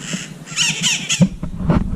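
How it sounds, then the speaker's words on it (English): A green parrot squawks a few times in Jalapão, Brazil, harsh calls repeating over steady outdoor background noise. "There is a parrot there, as green as parrots can be."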